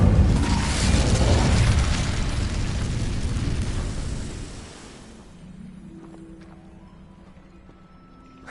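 An Incendio fire spell cast in Hogwarts Legacy, a loud roaring whoosh of flame for several seconds that cuts off sharply, leaving faint game ambience and a soft tonal hum.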